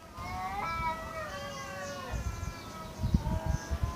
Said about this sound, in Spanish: Hay unos gatos arriba de mi techo.